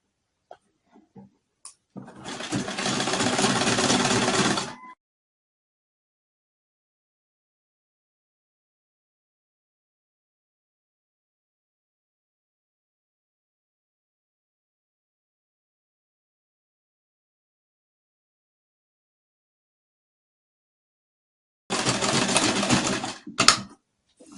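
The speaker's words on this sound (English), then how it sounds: "Then we'll keep sewing." Sewing machine stitching a blouse seam in two separate runs, a steady close mechanical whir for about three seconds, then a long silence before a second short burst near the end; no talking.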